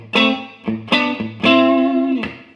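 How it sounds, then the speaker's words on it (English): A guitar plays a few distinct notes and chords with a touch of small-room natural reverb, each strike ringing briefly before decaying, close and fairly loud. "a very small, again, natural reverb as if you're playing in a small room"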